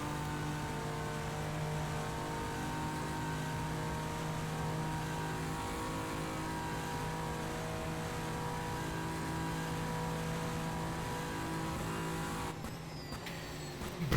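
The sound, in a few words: Nissan GT-R LM race car engine approaching chicane, racing game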